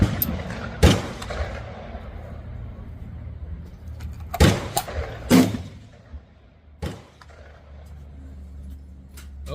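Gunshots at a shooting range during a chronograph velocity test of Titegroup powder-coated loads: three or four sharp, loud reports spaced a few seconds apart, each with a rumbling decay, over faint background noise.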